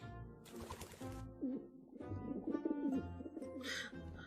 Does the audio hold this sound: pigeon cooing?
yes